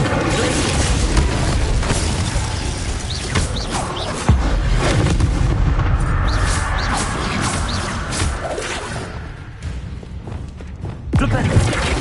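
Spell blasts and explosions from the Hogwarts Legacy video game, with booming thuds and whooshes layered densely over continuous game audio, with one sharp impact partway through and steady loud action throughout.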